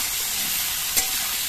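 Sliced ridge gourd fries in a pan of oil with a loud, continuous sizzle, broken by a quick stirring scrape just before the end.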